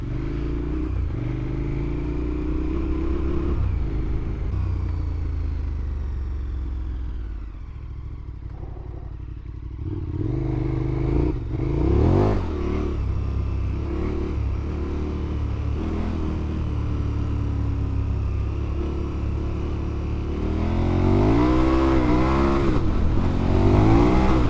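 A motorcycle revs and accelerates through gear changes on a sunny-day ride, its engine loud and close throughout with rising and falling pitch sweeps, with no talk over it.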